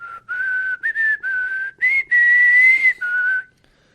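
A person whistles a short tune alone, several clear sustained notes with brief gaps, close and clean against silence.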